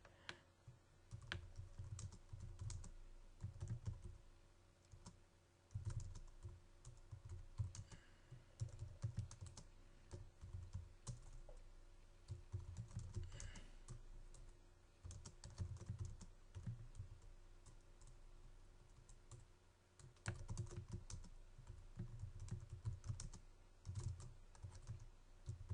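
Steady typing on a computer keyboard while writing an email header, a continuous run of close, quiet key clicks with short pauses between bursts.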